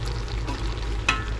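Food being stirred in a frying pan over a steady sizzle, with a brief louder scrape of the utensil near the end; the frying stays close and continuous, and no one speaks.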